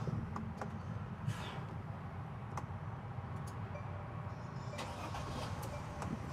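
A Winnebago Navion 24V motorhome engine starts and settles into a low, steady idle rumble inside the cab, with scattered small clicks and ticks over the hum.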